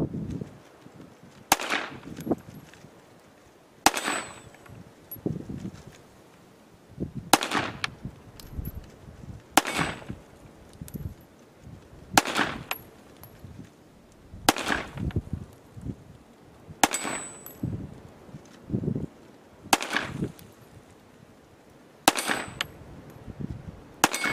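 A Sig Sauer P365 pistol in .380 ACP with an extended magazine fires ten sharp, evenly spaced single shots at an outdoor range, each a crisp crack with a short echo and quiet pauses of about two seconds between.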